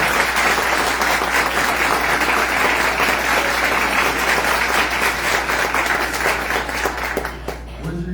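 Audience applause at a formal honorary citizenship and merit award session in Brazil, a sustained, loud wash of many hands clapping that stays even throughout and tapers off sharply at the very end.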